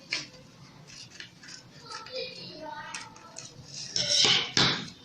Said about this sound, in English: So now I'll cut out the neckline from